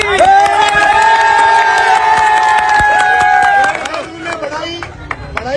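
A village crowd cheers and claps to welcome a player home from New Zealand. Loud sustained shouting and a tonal, horn-like cry fill the first four seconds, then fade into scattered claps and voices.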